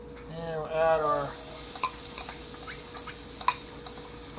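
Poblano and onion sizzling in olive oil and beef drippings in a pan, a steady faint frying hiss with light scattered clicks after a short voice at the start.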